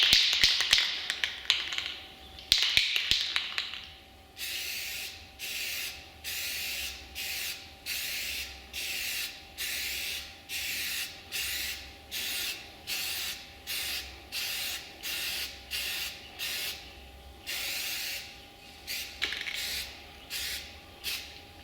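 Repeated short bursts of spray paint applying a second coat to the rear panel of a Nissan Maxima, roughly a dozen even, rhythmic hisses close to the mic with brief pauses between passes and no talking.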